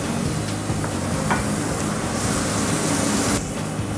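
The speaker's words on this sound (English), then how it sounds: "Now that the griddle's hot, I'm going to put these burgers on. You hear a nice sizzle." Steady broadband sizzling of burgers frying on a hot griddle, continuous and fairly loud, with a few faint clicks underneath.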